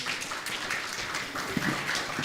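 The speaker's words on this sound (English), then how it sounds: "Everybody please give a little round of applause to Towns." Scattered clapping from a small group at a Unitarian church service forms a soft, steady patter, heard at a moderate distance.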